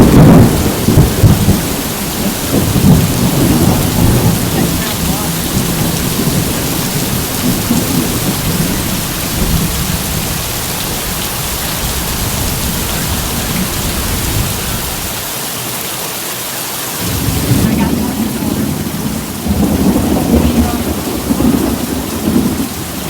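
Heavy rain pours steadily during a thunderstorm with a tornado approaching, with deep rolling thunder rumbling loudly beneath the downpour, which briefly thins before swelling back.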